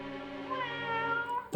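A fluffy white kitten gives a single drawn-out, rising and falling meow, close and clear, ending in a brief thump.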